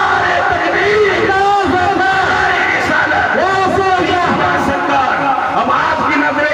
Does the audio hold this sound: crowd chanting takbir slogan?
yes